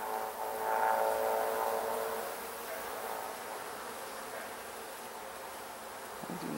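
Honey bees from a nuc hive swarm and buzz during an open-hive inspection, a dense steady drone close to the microphone that swells early and then holds, with no speech over it.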